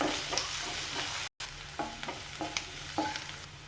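Onion and garlic frying until browned in a pan, heard as a close, bright sizzle with a few quick spatula scrapes and stirs and one brief dropout partway through.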